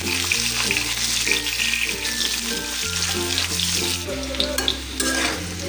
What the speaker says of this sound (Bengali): এখন আলুগুলো ভেজে নিতেছি